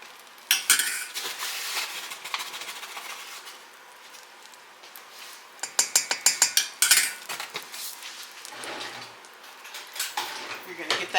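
A small whisk beats flour into melted butter in a stovetop pan for homemade mac and cheese, giving bursts of quick metallic scraping and rhythmic clinking against the pan, up close with short pauses between.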